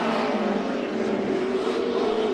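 A NASCAR Sprint Cup car roars at full throttle on a qualifying lap at Darlington, a loud, dense, continuous engine drone with no voices over it.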